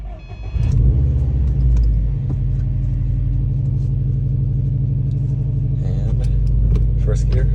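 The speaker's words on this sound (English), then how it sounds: "Go ahead and start this thing. See how this thing starts and sounds." A car engine cranks and fires up after a transmission rebuild, settling into a loud, steady, low rumbling idle up close, with brief clicks and rattles near the end.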